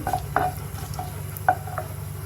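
Whole garam masala spices, dried red chillies and bay leaves fry gently in hot oil, a steady low sizzle punctuated by a few sharp crackles and spatula stirs against the pan, close by with no talking.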